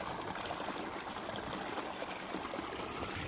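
Water from the 1.5-inch outlet pipe of a 650-foot solar-pumped borewell pours out in a steady, even rush of gushing flow, moderately near and unbroken, with no voices.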